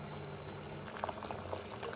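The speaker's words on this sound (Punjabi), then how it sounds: "5 ਮਿੰਟ ਹੋ ਗਏ ਆਪਣੇ ਰਾਜ ਭੋਗ ਨੂੰ ਉਬਲਦਿਆਂ ਨੂੰ" Rajbhog rasgulla simmer in sugar syrup, a faint, quiet bubbling with small soft pops and liquid burbles scattered over a low steady background.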